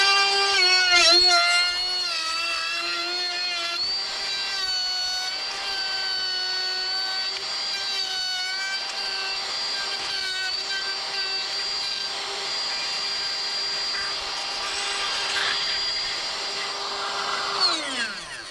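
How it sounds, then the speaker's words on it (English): Power router cutting a hinge mortise into an interior door edge, a loud steady high-pitched whine with harmonics that wavers slightly as the bit bites the wood, then spins down at the end; no talking. "Start your router up in there."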